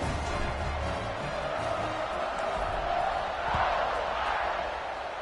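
A stadium crowd in the College Football 26 video game roars steadily during a kickoff, a broad continuous cheer that swells slightly partway through.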